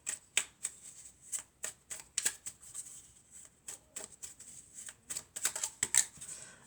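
Tarot cards shuffled by hand in a quiet room, a run of crisp riffling bursts and soft slaps coming in uneven clusters, close and clear with no talking.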